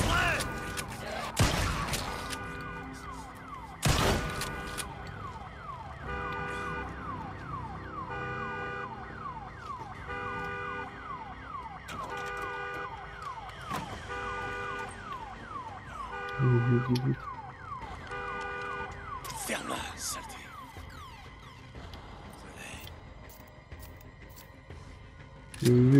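An alarm siren in the video game Days Gone wails in a steady repeating pattern through most of the stretch, with occasional loud impacts and game noises cutting in.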